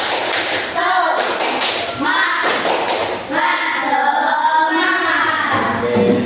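A classroom of schoolchildren claps out a rhythmic spirit cheer, taps and thuds in quick patterned bursts, with kids' voices chanting and calling along throughout.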